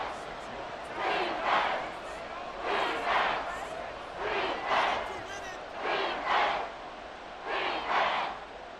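A stadium crowd in Madden NFL 24 roars in repeated swelling waves, rising and falling about every one and a half seconds over a constant background hum.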